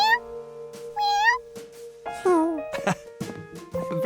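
A cartoon monkey mimics a kitten's meow with several high, wavering cries, mixed with other cartoon vocal sounds and short quiet gaps.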